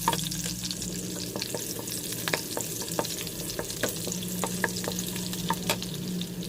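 Garlic fries in a pan as a pork steak sauce is started, with a continuous close sizzle and a low frying hum broken by regular sharp spatula taps and scrapes, no one speaking.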